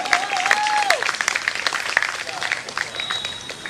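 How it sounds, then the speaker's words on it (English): Audience applause for a singer at a music tribute event, dense clapping with a few voices and whistles over it, steady and then easing off. "let's hear a round of applause for her."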